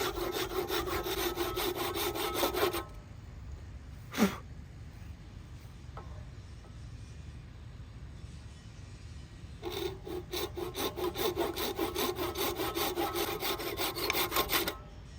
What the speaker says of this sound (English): let's just cut this wood off here